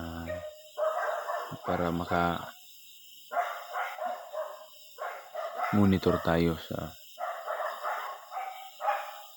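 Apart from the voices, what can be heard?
dogs barking at night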